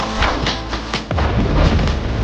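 Rapid BP50 rifle gunfire in the mobile shooter Call of Duty Mobile, a dense stream of loud, close shots with punchy thuds running continuously across the moment, no talking.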